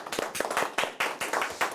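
Audience clapping at a company event, a short burst of sharp, fairly close claps in an uneven rhythm over about two seconds, with no talking.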